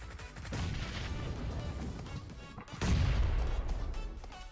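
A grenade goes off in PUBG Mobile: rumbling battle noise builds, then one loud heavy blast lands near the end and rolls on with a low boom and debris.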